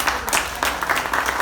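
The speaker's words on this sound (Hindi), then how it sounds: "एक बार जोरदार तालियों के साथ स्वागत करेंगे मेरे बहन श्री पीके मस्त जी" A live audience at a comedy laughter show breaks into dense applause for PK Mast, a steady wash of many hands clapping at once for a short burst, with no talking over it.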